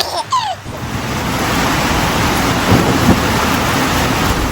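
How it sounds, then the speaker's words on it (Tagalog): Steady heavy rain hisses throughout in Benguet, Philippines, with a low rumble swelling near the end that could be distant thunder. "At nagtuloy-tuloy na nga yung ulan hanggang ating gabi."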